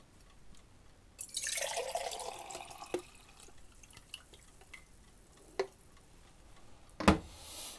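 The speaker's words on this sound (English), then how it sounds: "So now I can reuse this stop bath, so I pour it back into the stop bath jug." Used photographic film stop bath poured from a developing tank back into its jug: a quiet liquid pour running about a second and a half with splashy trickle, followed by a few faint drips and a sharper clink near the end.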